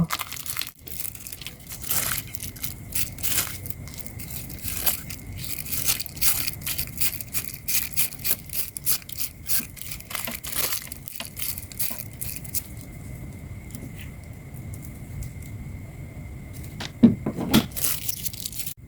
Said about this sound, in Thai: พันด้วยฟอร์เทปหรือว่าถุงพลาสติกก็ได้นะคะ สีเขียว